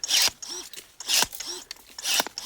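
LEADER cordless pole-mounted secateurs cut through a dry branch. Three quick, crunchy snips come about a second apart, each with a brief motor whir, heard up close.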